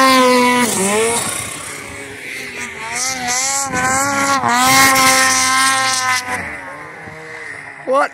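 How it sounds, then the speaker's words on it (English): Two-stroke snowmobile engine with a turbo at Island Park, Idaho, revving up and down in strong harmonic sweeps with a high spooling whine, close and loud with voices talking over it. "smell a two-stroke in the air, turbo spooling in the background"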